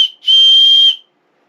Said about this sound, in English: it's also got a little built-in whistle as well in there